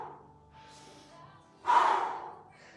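A person doing a home workout takes big, heavy breaths, a softer exhale followed by a louder sharp gasping breath up close.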